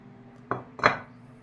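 Two quick clinks of a spoon against a bowl while buko salad ingredients are mixed, the second knock louder and a little longer, over a faint low hum.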